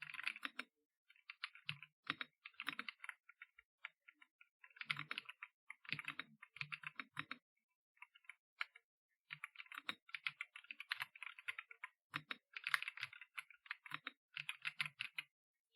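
Close typing on a soft, creamy-sounding computer keyboard, with quick bursts of muffled keystrokes and short pauses between phrases, heard quietly in an otherwise silent room.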